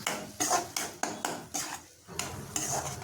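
Ground shallot paste is sautéed in sesame oil for Madurai mutton chukka, heard as rhythmic, close scraping stirs against the pan over a light sizzle, about six strokes in quick succession with no talking.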